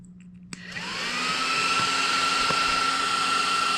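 A cheap RC turbo fan spins up after a sharp click, rising into a loud, steady high-pitched whine and rushing roar that holds at full power, close and alone.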